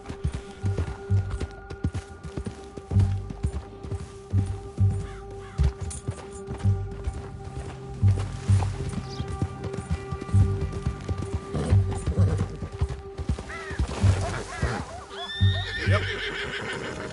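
Horse whinnies and hoofbeats clop along in Red Dead Redemption 2, with rhythmic galloping thuds running steadily throughout and a neigh rising near the end, moderately loud over a low game ambience.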